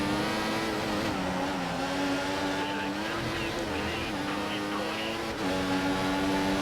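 A Formula 1 race car engine in F1 2014 at the Austrian Grand Prix drones loudly and continuously with slight pitch shifts, and someone talks over it.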